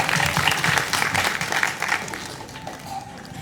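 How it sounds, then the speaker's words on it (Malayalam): Audience applause at a Merry Boys film pooja event, a steady wash of many hands clapping together, fairly loud and continuous, fading slightly toward the end. "എല്ലാവരും ഒരു കയ്യടി കൊടുക്കാട്ടോ"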